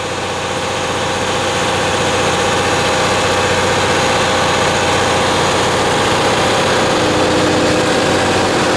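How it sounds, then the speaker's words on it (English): A concrete pump truck's engine drones loudly and steadily, running the concrete pump with a constant mechanical hum and vibration and no break in the sound. "that allows them to use the engine of the truck to run the pump, which is pumping your concrete"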